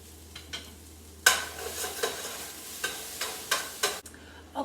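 Onions softening in a pot for butternut squash soup, with a soft sizzle under repeated scraping and stirring strokes, close and moderately quiet, with no talking.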